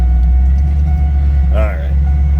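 A 1999 Pontiac Firebird Trans Am WS6 T-top coupe engine fires up and settles into a deep, steady low rumble close by, with a brief higher whine partway through.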